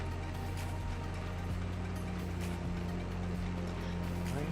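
A tractor drives through a pond in Farming Simulator 22, a steady low engine drone with a faint watery wash running continuously at moderate level.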